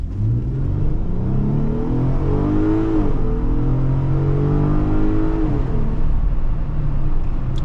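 A Jeep Wrangler's engine rises in pitch as it accelerates through gears with traction control off, with a steady roar of road noise underneath, loud and close.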